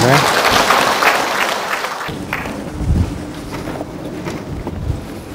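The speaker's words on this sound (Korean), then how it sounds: "큰 박수로 맞이해 주시기 바랍니다" Applause from a lecture audience welcoming a speaker fills the opening seconds, then thins out as voices and room noise take over.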